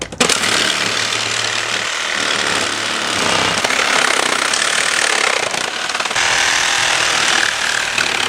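A saw cuts open a crusty, corroded car radiator in a harsh, loud, continuous grinding rasp with brief shifts in pitch, close up and without talk.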